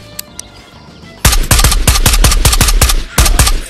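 Loud automatic gunfire from the VR shooter Ghosts of Tabor erupts after a quiet moment, with rapid close bursts of repeated shots and a brief pause before another burst.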